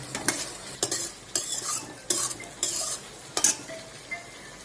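A spoon scrapes and stirs through sizzling sambar with sambar masala in a pan, in about seven rhythmic strokes, close up, with no voices.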